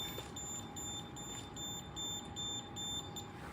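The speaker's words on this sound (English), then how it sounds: "now I have a detector here that will be able to show you how high is the radiation" A handheld radiation detector sounds a rapid, repeating electronic beeping alarm with high-pitched pulses, steady and close, with no talking.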